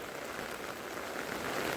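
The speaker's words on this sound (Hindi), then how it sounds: "वरना बारिश बहुत भयंकर आ चुकी है" Heavy monsoon rain pours steadily onto surfaces in a hill setting, a dense, loud, continuous hiss and patter close by with no talking.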